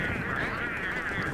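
Pengull birds in the survival game Don't Starve give a steady, nasal honking chorus, continuous and moderately loud, with no voices over it.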